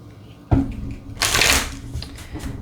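A deck of oracle cards being shuffled close by: a sharp tap, then a quick riffling flutter and a few softer shuffles.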